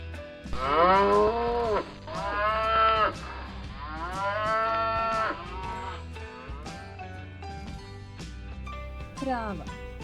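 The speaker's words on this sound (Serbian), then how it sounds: "Krava." A cow moos loudly several times at close range, long drawn-out lowing calls that swell and fade, followed by quieter background noise.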